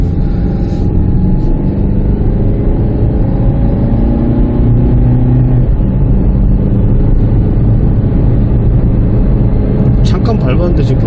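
A 2013 Chevrolet Spark engine pulls steadily uphill under sustained throttle, a continuous mid-pitched drone with rising tone heard from inside the car beneath ongoing conversation.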